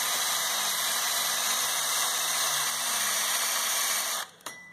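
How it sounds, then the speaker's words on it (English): A wire brush spinning on a power drill scrubs paint off the cast bell housing of a Ford 8N farm tractor, giving a continuous high, whining grind at steady pitch that abruptly stops near the end. "what I have is my wire brush on my drill"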